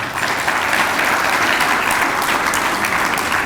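Sustained applause from the audience at a Bahrain–Malaysia business and friendship society gathering, honouring the founding members; a dense, steady wash of many hands clapping at even loudness throughout.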